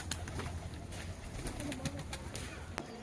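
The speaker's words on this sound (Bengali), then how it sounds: "তো অনেক কবুতর অলরেডি আছে" Many pigeons coo softly in a loft at dusk, a low layered murmur with occasional wing flutters and sharper knocks, heard from close by.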